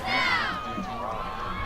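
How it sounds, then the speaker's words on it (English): A high school football crowd at a Howe Bulldogs at Mineola Yellowjackets game lets out a brief burst of shouting and cheering that swells loudly, then trails off. "something for the Howe crowd who's still here to cheer about"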